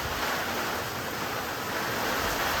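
Stormy wind blows hard against windows, a loud, steady roaring rush of air that holds constant through the short stretch with no voices.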